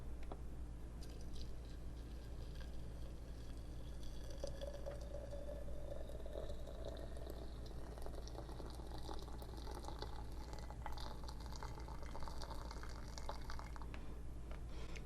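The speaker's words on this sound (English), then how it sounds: "I'm going to pour my water over my leaves" Hot water poured from a vessel over loose tea leaves in a home apothecary kitchen, a faint, continuous liquid trickle and splash over a steady low background hum, with no talking.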